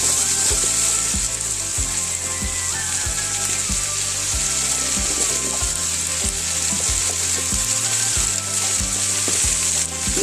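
String beans (sitaw) sizzle loudly in a frying pan for a Waray-style sautéed dish, with a spatula scraping and stirring in a steady rhythm of clacks over continuous frying hiss.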